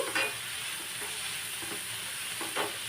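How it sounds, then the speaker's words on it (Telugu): A spoon stirs black pepper powder and chili flakes into a mixture frying in a pan, with a soft steady sizzle and a few clinks and scrapes of stirring, close up and alone. "ఇప్పుడు ఇవన్నీ కూడా కలిసేలాగా ఒకసారి కలుపుకునేద్దామండి"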